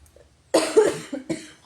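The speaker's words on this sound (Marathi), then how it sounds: "माझा खोकला काय बंद होत नाही वाटतंय मला तर" A close, fairly quiet person coughs a few times in quick succession after a brief silence.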